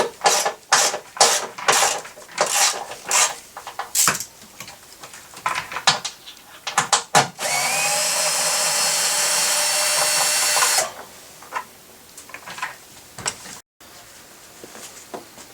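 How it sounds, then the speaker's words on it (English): Bolt being removed on a 2001 Volvo S60 during a windshield washer reservoir replacement: a run of sharp ratcheting clicks, then a steady power-tool buzz for a few seconds, followed by more scattered clicks. "then take off the bolt that's in here"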